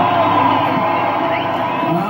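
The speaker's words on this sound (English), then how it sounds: "The crowd went wild." A large crowd at a Hawaiian hula gathering of dancers and hula schools roars and cheers wildly, a continuous loud wash of shouts and whoops with scattered high yells rising throughout.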